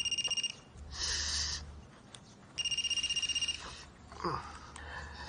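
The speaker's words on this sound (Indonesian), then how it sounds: "itu ada telepon" A telephone rings in two bursts of tonal trilling separated by a pause, fairly loud against a low hum, with a brief voice between the rings.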